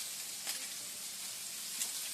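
Ham and onions fry in a pan with a soft, steady sizzle, and a couple of faint stirring scrapes break in.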